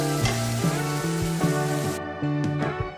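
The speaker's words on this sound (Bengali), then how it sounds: "এবার আমি পেঁয়াজটাকে হালকা করে একটু ভেজে নেব।" Onions frying lightly in a pan while cooking rohu fish masala give a steady soft sizzle, carried underneath a louder melodic music track with stepping tones.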